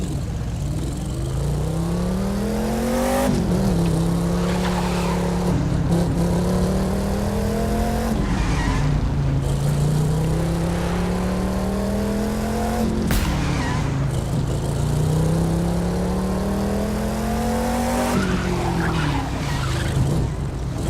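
Chevrolet Camaro RS in the racing game The Crew 2, its engine revving up and shifting through gears in repeated rising sweeps with tire squeal and skids, loud and continuous with no talk.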